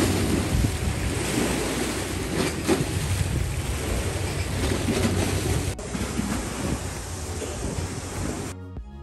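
Red Sea waves washing onto a resort beach in Hurghada, Egypt, a continuous surf roar mixed with wind buffeting the microphone, steady and fairly loud throughout.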